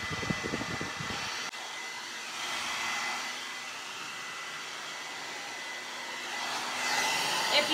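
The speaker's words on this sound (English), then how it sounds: "If you blow dry like this and blow dry under the hair, it provides a little more volume." Hair dryer blowing on hair during a straight blow-dry styling, a steady airy rush that swells and eases as the nozzle moves, preceded by a brief clatter of handling noise.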